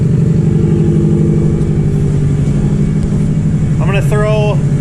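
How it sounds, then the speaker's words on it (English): A Subaru GF8 WRX engine warms up at a steady idle, a loud, close, continuous low rumble that holds even throughout, with a brief voice near the end. "I've got the car warming up"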